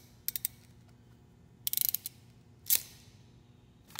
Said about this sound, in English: Then we'll go ahead and crimp it down.